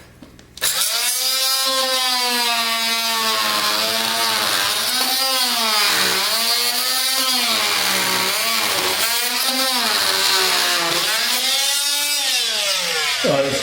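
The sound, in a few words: oscillating multi-tool saw cutting a notch in walnut flooring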